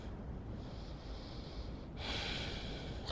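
Faint, slow ujjayi breathing through the nose with the throat engaged, a soft hushing airflow that grows louder partway through, like ocean waves.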